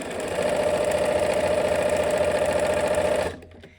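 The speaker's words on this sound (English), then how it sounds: "So we're starting the same spot as we have been, taking our back stitching." A sewing machine stitches steadily and loudly in a close, continuous mechanical whir while backstitching fabric, then stops abruptly near the end.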